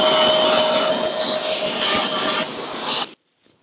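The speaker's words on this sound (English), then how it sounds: "and the vacuum cleaner" A vacuum cleaner runs steadily and fairly loud during hand sanding work on a Scout 800 steering wheel restoration, a broadband whine with a tonal hum, then cuts off abruptly just after three seconds, leaving near silence.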